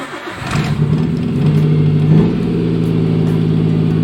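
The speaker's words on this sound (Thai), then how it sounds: "เดี๋ยวจะมาสตาร์ทให้ดูนะครับ นี่นะครับเสียบสวิตช์กุญแจแล้วก็" A car running on E85 fuel starts with the ignition key, catching quickly after a short crank and settling into a loud, steady idle close by.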